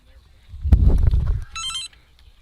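A short electronic telephone ring sounds near the commentators' booth at a junior high girls' softball game, one brief tonal burst after a loud thump and rumbling background noise.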